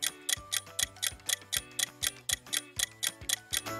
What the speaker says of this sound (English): Timer Ticks and Dings by SchwartzSound.